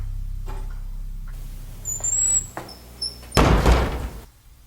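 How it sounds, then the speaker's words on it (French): A door in a dark, quiet interior swings and shuts with a dull thud, followed by a louder burst of noise near the end amid faint creaks and clicks; no speech. "La porte vient de se fermer."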